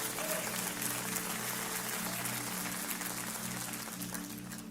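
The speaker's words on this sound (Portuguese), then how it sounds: "Você pode aplaudir o Senhor por isso?" Faint, distant church congregation applause, a soft continuous wash of clapping under a steady low hum, gradually fading.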